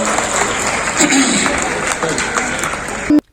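A large audience claps loudly and steadily at a felicitation ceremony honouring a Ram Janmabhoomi kar sevak, a dense continuous applause with crowd murmur that cuts off abruptly near the end.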